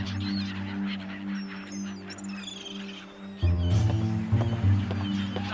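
Baby birds in the Nick Bounty adventure game call out for their mother with honking, squawking cries. They sound over a steady droning background that grows louder partway through, and there is no talk over them.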